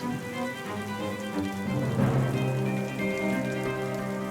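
Steady rain falls across an outdoor park, a dense continuous patter on surfaces, fairly loud and close, with some tonal music-like layers mixed in beneath and no talking.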